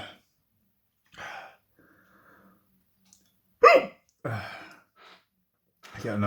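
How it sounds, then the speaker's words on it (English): A man has hiccups after eating a Red Ghost Scorpion chili pepper: several sharp, close hiccups with short gasping breaths, spaced by quiet pauses of a second or more. "I get a normal rhythm of hiccups going"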